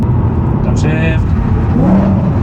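A rare BMW M3 on a mountain road gives a short engine blip as it downshifts, a quick rising rev over steady road and engine noise, with people talking inside the car.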